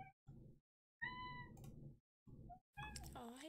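A cat meows several times close by, short separate cries with brief gaps, the last one longer and rising, while a person speaks softly around them.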